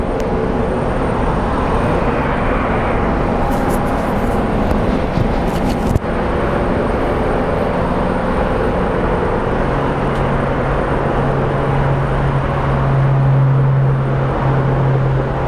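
A 1992-built airliner at Phoenix Sky Harbor International Airport roars continuously as a loud, broad engine rumble that holds steady throughout, with a brief sharp click midway.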